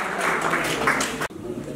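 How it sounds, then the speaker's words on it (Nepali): At a large poetry gathering, an audience bursts into dense applause for a speaker invited to the stage, then the clapping cuts off sharply to a quiet room. "जोरदार तालीले स्वागत गर्नको लागि"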